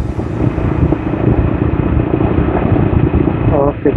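An Apache motorcycle engine drones steadily while riding, loud and close with constant rumble and wind buffeting; someone speaks briefly over the noise.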